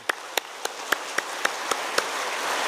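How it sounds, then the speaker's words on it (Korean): Sparse, evenly spaced claps ring out in a church sanctuary during a Sunday worship service as the congregation welcomes a visiting former presbytery moderator, about nine distinct claps, fairly quiet over a low room hiss. "네, 박수로 맞으시고."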